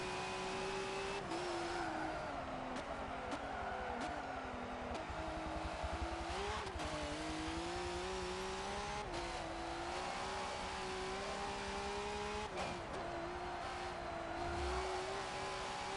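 A V8 Supercar racing engine in Forza Motorsport 7 during a race at Bathurst holds a steady high-revving drone, with repeated brief dips and rises as it shifts gears. It plays continuously and alone, with no voices.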